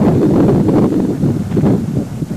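Strong wind blows steadily at the Cuesta del Viento reservoir in San Juan, Argentina, a loud continuous roar of buffeting gusts against the microphone with no speech.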